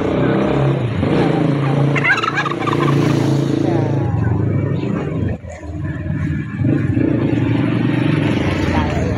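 A male turkey gobbles loudly and repeatedly up close, with a low engine-like rumble in the background.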